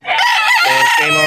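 A fighting rooster for sale at a gamecock market in Bocaue, Bulacan lets out one loud, close crow that starts abruptly and holds strong for just over a second.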